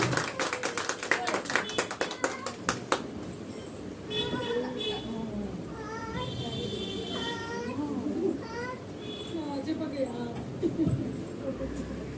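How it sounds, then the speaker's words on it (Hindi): A crowd at a Teej function bursts into a brief round of clapping, quick dense claps that fade into chatter and talking voices. "जोरदार तालियां नंबर 22 के लिए।"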